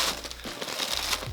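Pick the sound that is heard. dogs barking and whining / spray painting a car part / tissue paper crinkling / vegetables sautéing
tissue paper crinkling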